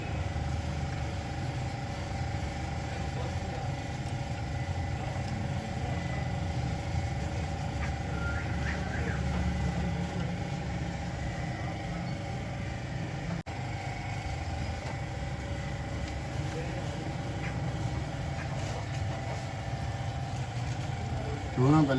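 Toyota GLI car engine idling with a sound problem, a steady close rumbling drone running throughout at even loudness, with voices talking over it.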